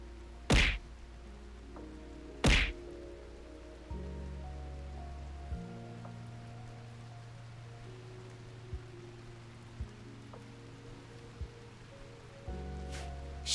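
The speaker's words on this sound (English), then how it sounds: "Oh no, now the rain is coming." Rain falling in the video game RimWorld, a soft steady patter held quietly under low ambient game tones, broken by a few sharp thuds and clicks near the start and scattered through the rest.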